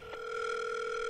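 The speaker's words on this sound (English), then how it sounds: "There's this new item where you can make a phone call." A steady telephone dial tone plays from a new phone-call item in the Fortnite video game, preceded by a short click, clear and uninterrupted.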